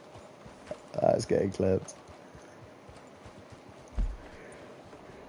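Video game horse hooves clip-clop in a short, close burst of several beats, then one more thud a few seconds later, while someone speaks briefly in between.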